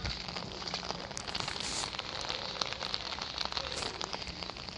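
Steady rain patters down on a hard rooftop surface among potted plants, a dense continuous hiss with scattered sharper drops, and no voices.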